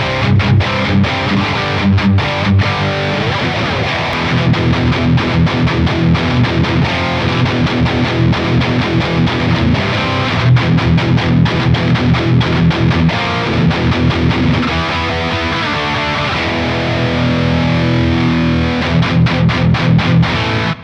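Electric guitar played through a Neural DSP Archetype Rabea amp simulator, a dense distorted tone with heavy reverb and wide stereo spread, sustained riffing throughout with steady loud level and no talking.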